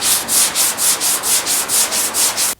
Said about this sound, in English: I'm going to tap that down and do some more sanding